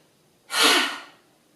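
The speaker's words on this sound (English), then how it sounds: "See if you can make a really loud sound as you breathe out." A single loud, breathy exhale during a yoga breathing exercise, a short forceful whoosh of air that swells quickly and fades over about half a second.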